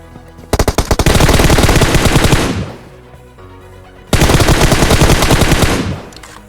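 Automatic gunfire in the mobile battle royale game PUBG Mobile: a few single shots, then two loud, close sustained machine-gun bursts separated by a short pause.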